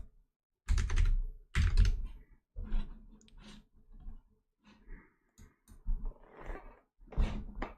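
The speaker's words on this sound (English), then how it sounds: "I'm smashing the computer, the keyboard loud, by the way." Someone hammers a computer keyboard hard on purpose, producing loud, close, clattering bursts of heavy keystrokes with brief gaps between them and no talking over it.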